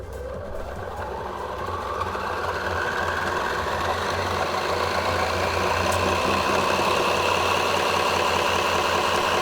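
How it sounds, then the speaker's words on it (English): A homemade magnetic drum delay line memory spins up and runs, a loud, steady mechanical whir and rumble with a constant low hum that holds throughout. "the drum has now spun up, and it's incredibly loud, and it's incredibly scary too"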